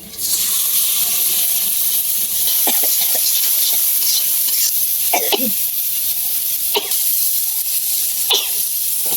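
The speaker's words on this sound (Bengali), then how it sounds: "মশলাটা গুলাই নিতেছি হলুদ লবণ মরিচা গুলো পরিমাণ মতো দেওয়া আছে" Turmeric, salt and chili spices are stirred in a hot pan, giving a loud, steady sizzling hiss broken by a few sharp scraping strokes, with no talking.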